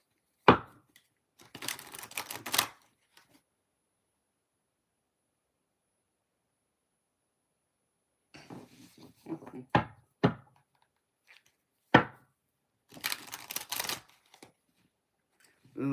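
Tarot cards are bent and shuffled by hand in a few separate bursts of riffling and flicking, close and crisp, with long quiet gaps between them.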